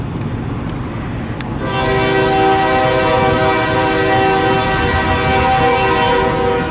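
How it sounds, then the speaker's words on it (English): A Union Pacific eastbound freight hauling long strings of empty hoppers rolls through Fremont, Nebraska, sounding a loud, sustained horn blast that starts a couple of seconds in over the low rumble of the train. "This is the eastbound on the Union Pacific side of the house."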